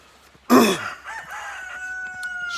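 A rooster crows once, loud and close, with a sharp start and a drawn-out tail, followed by quieter lingering tones.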